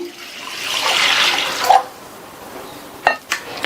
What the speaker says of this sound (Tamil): இந்த பேனில் தண்ணி சேர்த்துருக்கேன்.